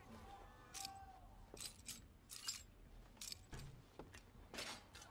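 Keys jangle in Red Dead Redemption 2 as a guard's ring of keys is taken, a few soft metallic clinks in short bursts over a low game ambience.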